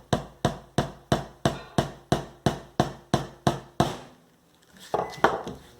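A hammer drives a corkboard pin into small pieces of broken CD, about eleven sharp, evenly spaced close taps, then a pause and a couple of softer knocks.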